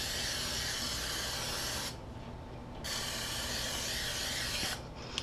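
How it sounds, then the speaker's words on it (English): Cooking spray hisses from a can onto the bottom and sides of a nonstick cake pan in two long bursts, separated by a brief pause, close and fairly loud. "And I also spray the sides."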